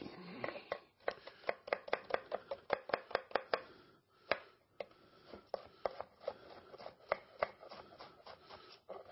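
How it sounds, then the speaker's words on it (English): A knife chops an onion on a cutting board in quick, crisp, close strikes, some in fast bursts and some spaced apart, with brief pauses between runs. "I want you guys to see exactly how we actually cut things up here"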